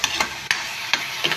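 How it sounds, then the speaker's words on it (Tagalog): Garlic, onion and tomato go into a hot pan together and sauté, a low crackle of frying broken by four sharp scrapes and knocks of a spatula stirring against the pan. "Gisa-gisahin lang natin yung"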